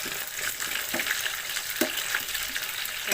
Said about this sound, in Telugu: పచ్చిమిర్చి వేస్తున్నాం.